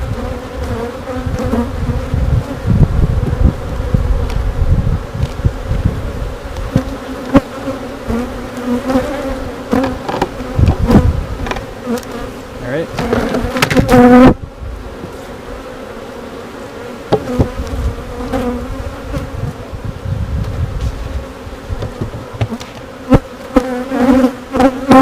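Honeybees buzz around an open beehive as a dense, continuous drone that swells and thins as insects pass close, with a brief quieter lull partway through and no voices.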